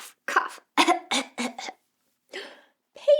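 A voice imitates coughing while reading a Peppa Pig children's story aloud: several short, breathy cough bursts in quick clusters with brief pauses between them, close and fairly soft.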